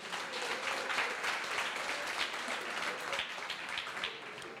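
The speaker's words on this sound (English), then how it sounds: "please a round of applause" Steady applause from a crowd at a co-operatives bootcamp session in Gauteng, dense clapping that continues evenly throughout without pause.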